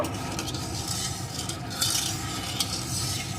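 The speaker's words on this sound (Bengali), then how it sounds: "এখন এই তেলের ভিতরে দিয়ে দেবো একটু লবণ একটু মিশিয়ে নেব" Salt stirred into hot mustard oil in a wok, a soft continuous sizzle with scraping spoon strokes against the metal, close and steady with no talking.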